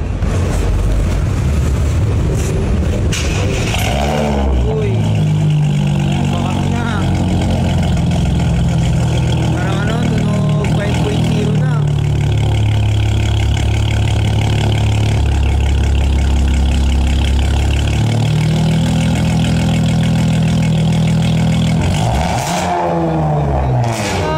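Motorcycle running with its catalytic converter removed and a modified exhaust pipe, a loud, steady low rumble that swells with revs in the middle and eases off near the end, with no talk over it.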